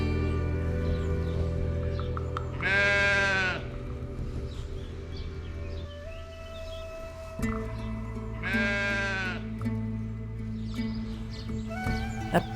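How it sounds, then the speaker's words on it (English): Two drawn-out sheep bleats ring out a few seconds apart over a steady low hum of background noise, in the Austrian countryside near Mittersill, Kaprun and Zell. "Apart from the sheep, it's completely quiet here."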